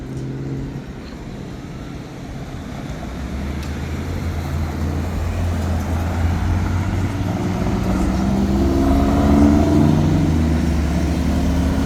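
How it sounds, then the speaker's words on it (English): Cars pass on a suburban road on a morning walk near Atlanta, Georgia, a steady rolling tyre and engine rumble that grows louder toward the end as vehicles go by close behind, with no talking. "Cars behind me."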